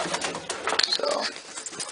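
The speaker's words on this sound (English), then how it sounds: "Get off there, pigeon." Domestic pigeons cooing inside a loft, a soft close murmur of coos and wing shuffling, with a voice speaking over them.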